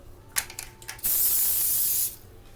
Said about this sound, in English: Spray the outside of them